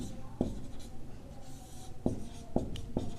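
A pen writes out the formula for the area of a rhombus in a class 10 maths lesson, making soft scratching strokes with a few sharper taps, close and quiet against faint room noise.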